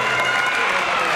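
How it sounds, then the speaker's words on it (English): An audience at the 2019 Lorain County Mr. Basketball presentation gives a brief, loud burst of applause. Dense clapping fills the moment, with a faint edge of crowd noise behind it. "a great big round of applause for Coca-Cola as well for sponsoring Mr. Basketball"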